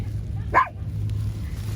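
A single short dog bark rings out at mid-distance during an outdoor shaggy mane mushroom forage, then silence returns over a steady low background hum.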